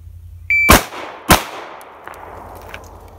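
A single sharp gunshot fired at a 10-yard pistol target at close range, a loud crack with a short tail, followed by a second report and fading echoes with no talk.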